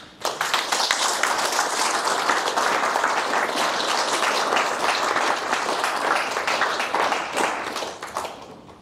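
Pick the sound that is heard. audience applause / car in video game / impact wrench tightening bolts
audience applause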